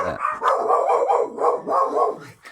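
A dog gives a loud, close, continuous run of rhythmic barks and yowls lasting a couple of seconds.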